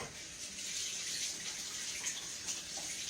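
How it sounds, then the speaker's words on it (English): Steady, broadband rush of tap water runs continuously as hands are rinsed at a kitchen sink, a close, even hiss with small splashing fluctuations and no talking. "Let me wash my hands off."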